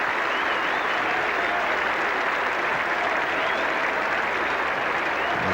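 A big Edgbaston crowd at a 1985 England versus Australia Test cricket match cheers and applauds steadily, a dense, loud wash of clapping that holds throughout without a break.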